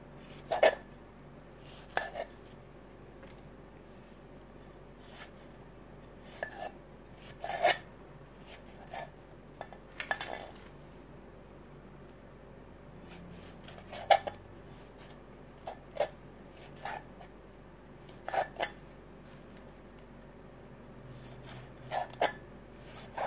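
Squid papaya salad being pounded in a mortar with chilli, garlic and fermented fish, heard as scattered soft knocks and clinks of the pestle and utensils, fairly quiet with pauses between strikes.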